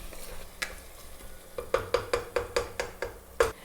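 Mint and coriander leaves being sautéed for mutton biryani, a soft sizzle broken by a run of regular, close scraping stirs in the pan, about eight evenly spaced strokes near the end.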